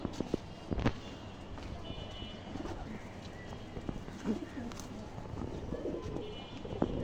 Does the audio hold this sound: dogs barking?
no